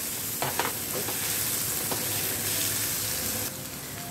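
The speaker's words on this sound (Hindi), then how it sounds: "इस तरह से हम मैश कर लेते हैं।" Cooked tomatoes are mashed in a hot pan, a continuous sizzle with a few scraping, clattering strokes near the start and a steady frying hiss after.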